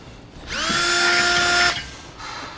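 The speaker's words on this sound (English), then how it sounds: "I'm going to drill through that spot that I punched." A power drill whirs up to a high, steady whine for about a second, biting through a metal base plate on a 2015 Smart fortwo, then cuts off, followed by a quieter brief spin.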